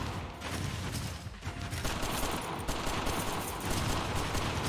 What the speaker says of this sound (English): So you get this machine gun here.